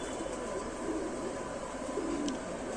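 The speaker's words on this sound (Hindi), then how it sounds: "अच्छी हालत के कबूतर।" Rampuri-blood pigeons, including a hen, coo softly and steadily in a continuous low murmur with a faint chirp partway through, and no voices are heard.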